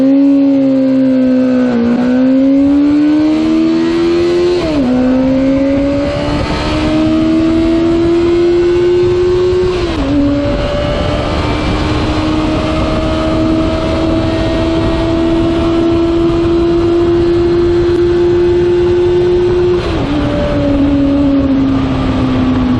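A 1984 Suzuki GSX750 police motorcycle engine pulls hard through successive gears, its loud, steady drone rising in pitch and dropping briefly at each shift, recorded close up.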